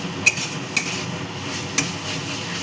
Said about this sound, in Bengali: এবার দিয়ে দিচ্ছি এর মধ্যে পোস্ত। ভালো করে মিশিয়ে নিচ্ছি।